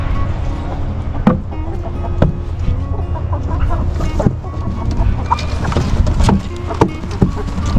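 Chickens being brought down to a homestead processing area, clucking intermittently against a busy outdoor background with sharp knocks and some movement noise.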